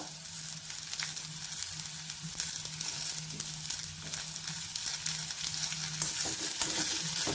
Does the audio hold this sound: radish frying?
yes